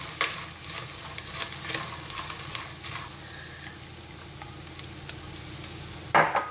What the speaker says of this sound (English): I'm just going to add one chopped up leek to the bottom of the pan